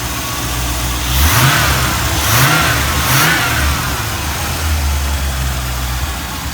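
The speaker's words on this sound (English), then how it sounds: "So watch, it's gonna run. And then it's gonna start sputtering." A 1984 Corvette C4 engine with a fuel system fault runs loud and close. It surges in three rising revs early on, then settles into an uneven, wavering idle.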